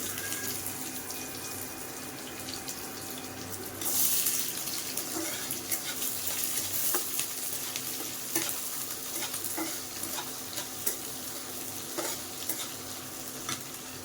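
Chopped onions fry in a pan for matar ghugni, giving a continuous close sizzle with scattered stirring clicks and a brief watery rush partway through, with no voices.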